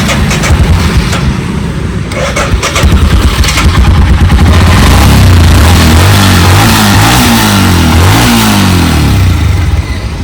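Royal Enfield Himalayan motorcycle engine idling loud and close, then revving repeatedly with rising and falling pitch sweeps in the second half, no talk.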